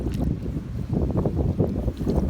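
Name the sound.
wind by a small river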